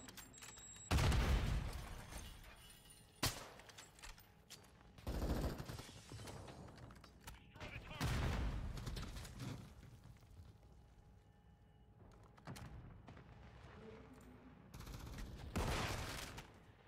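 Gunfire in a first-person shooter video game comes as several loud bursts of shots separated by quieter stretches, with sharp single cracks in between and some faint background activity.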